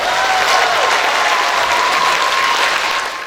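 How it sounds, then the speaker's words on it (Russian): Loud, sustained audience applause fills a children's concert hall at an art studio's recital, a dense wash of many hands clapping steadily, with a faint tonal whistle or feedback line running through it before fading slightly at the end. "Аплодисменты громче!"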